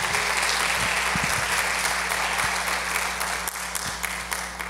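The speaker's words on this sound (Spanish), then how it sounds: "dele un aplauso al Señor" Church congregation applauding during a women's worship service, a loud continuous wash of clapping with a few sharp individual claps and a steady hum underneath.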